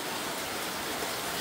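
Heavy rain pours during a storm that floods a house, a dense, steady hiss of water with no voices heard.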